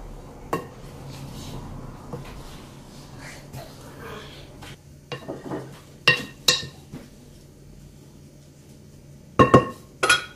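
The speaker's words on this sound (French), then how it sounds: "Donc je vais bien tout mélanger." Walnut cake batter is mixed in a bowl, with intermittent clinks and knocks of a utensil against the dish between quiet pauses, and a cluster of sharper clatters near the end.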